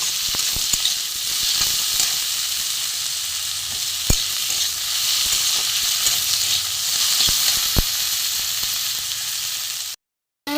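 Thinly cut potatoes fry in oil alongside onion, garlic and tomato, a loud close sizzle with occasional sharp stirring knocks, ending abruptly in a brief silence.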